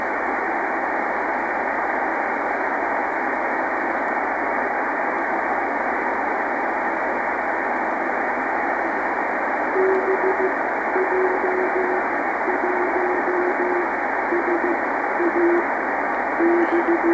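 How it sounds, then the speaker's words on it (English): Faint on-off CW telemetry beacon from the HO-68 amateur radio satellite, received during an October 2012 pass, keyed tones emerging partway through under a constant loud hiss of receiver static. "The CW that you're hearing on HO-68 is some information, I would say a little bit of telemetry or information about the satellite"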